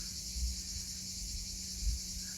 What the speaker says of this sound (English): Plenty of cicadas going on as well.